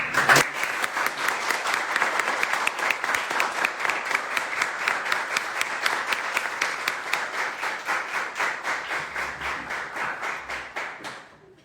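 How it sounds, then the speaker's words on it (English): Loud, encouraging applause from an audience welcoming a guest at a role-model talk series, a dense, sustained clapping that holds strong for about eleven seconds before thinning and fading out. "I'm hearing this such a loud and such a encouraging applause"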